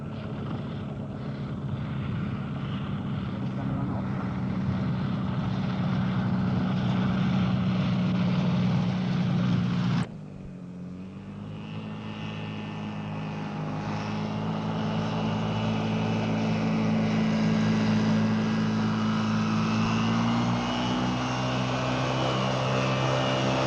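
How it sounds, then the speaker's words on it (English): A propeller aircraft performing a downwind landing, its engine drone steady and fairly loud, dipping abruptly partway through and then building again with a rising tone as it approaches. "Now a downwind landing, showing again the full control of the aircraft."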